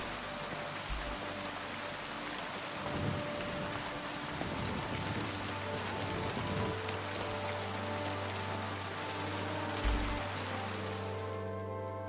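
Steady rain falls in the medieval role-playing game Kingdom Come: Deliverance, a constant dense hiss of drops on surfaces that carries on unbroken for the whole stretch, with a few faint low thumps underneath.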